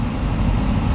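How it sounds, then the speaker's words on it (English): A parked truck idles beside an icy river, its engine giving a steady low rumble with no change in pace across a brief moment, close and even. "So I'm gonna leave the truck running"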